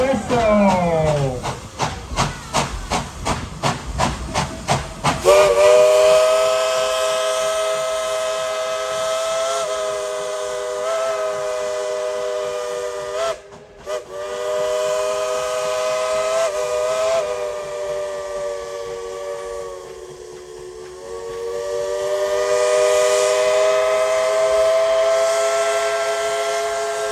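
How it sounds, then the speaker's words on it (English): The Dollywood Express No. 70 steam locomotive sounds its whistle, first in a rapid string of short blasts, then in one long sustained wail with hissing steam, loud and close, with a brief break partway through. "Blow the whistle."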